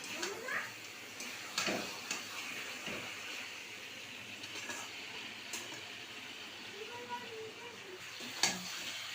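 Chicken with spices and onion frying in a pan as it is stirred, a steady close sizzle with occasional scrapes of the spoon, a little water added, no talking.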